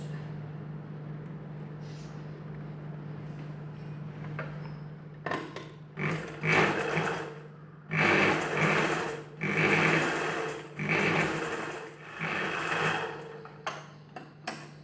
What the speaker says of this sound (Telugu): అలానే రెండో వైపున కూడా కుట్టు వేసుకోవాలి.